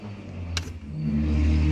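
A car revs its engine while passing on the street outside, a broad rising roar that swells toward the end, heard from indoors with a brief rattle partway through.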